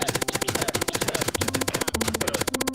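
Rapid-fire spitting from a llama morph in modded hardcore Minecraft, a fast, even stream of sharp pops repeating several times per second, loud and close over a low tonal game backdrop.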